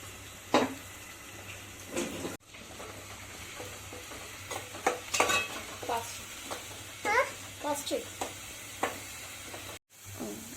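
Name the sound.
onion paste frying in a pan for egg curry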